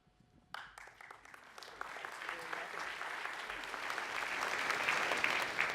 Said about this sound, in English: Always nice when you get a clap for doing nothing.